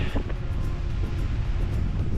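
Continuous strong wind on Humboldt Peak, a Colorado mountain, buffeting the microphone, a low rumbling roar that stays steady throughout.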